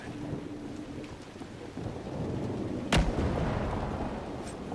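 Thunder and steady rain in the video game Dragon Age: Inquisition, with a dense downpour throughout and a single sharp, loud thunderclap near the middle that rolls on under the rain.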